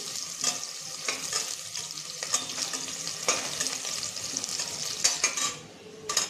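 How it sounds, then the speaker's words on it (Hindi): Onions shallow-frying in hot oil for a veg biryani, sizzling steadily up close while a spoon stirs and scrapes against the pan in repeated strokes. "अभी अपना तेल गर्म हो गया है तो हम इसमें पहले प्याज को सेलो फ्राई कर लेंगे।"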